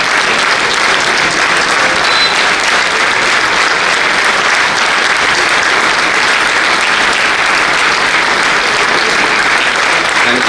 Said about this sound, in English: A big round of applause for Justice Vibhu.